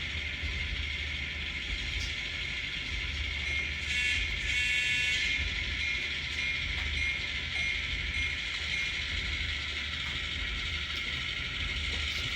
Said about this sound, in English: We got the whole train.